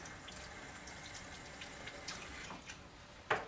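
Water running steadily in an ATM Saphir 520 polisher to wash a metallographic sample, a faint even hiss from a tap with a small splash near the end, no talking.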